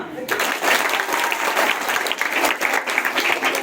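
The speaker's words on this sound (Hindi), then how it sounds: "तालियां।" An audience breaks into loud, sustained applause at a Women's Day event, a dense crowd of clapping hands filling the room, with a voice briefly audible underneath.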